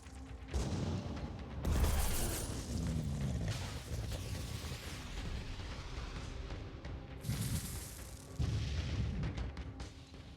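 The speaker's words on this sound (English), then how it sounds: "Oh, the cannon actually hit." Cannon shells striking targets in the tactical game Phoenix Point: several heavy booms and blasts with rumbling debris, dense and continuous across the clip, each impact followed by a crackling tail.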